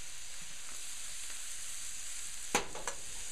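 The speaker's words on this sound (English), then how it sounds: "I want to sear the meat a little bit to bring out the flavor, but I don't want to overcook it." Red meat sears in olive oil in a pan with a steady, close hiss of frying, and one brief louder crackle near the end.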